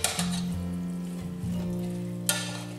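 Cabbage and ground burger being stirred together in a pot over medium to medium-high heat, a soft steady sizzle with a few scraping stirs and a brief clatter near the end, no talking.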